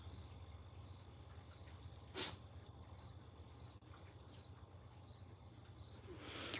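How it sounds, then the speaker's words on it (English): Steady high-pitched cricket and cicada chirping in a continuous pulsing chorus, with a low hum underneath and a brief louder rustle partway through. "Now I can hear crickets and the cicadas."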